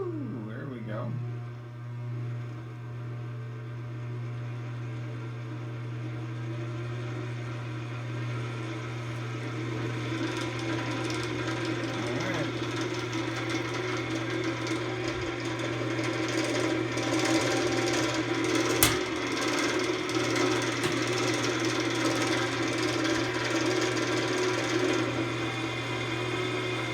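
HillCo 340E honey extractor spinning up to full speed, giving a steady motor hum with a constant low drone and rising whirring mechanical noise, some rattling, while a person talks over it.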